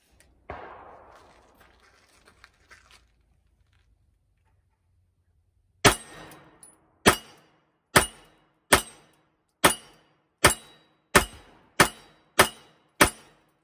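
A Glock pistol, third-generation Glock 19 and 17, fires at steel targets: nine sharp, evenly spaced shots with ringing impacts, loud and close, after a few seconds of faint rustling and near silence.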